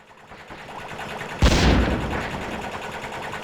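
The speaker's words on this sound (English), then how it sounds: "Let's just shoot everything." A weapon fires in the Star Trek: 25th Anniversary PC game, a single sudden loud blast that swells into a sustained, slowly fading whooshing roar over a humming background.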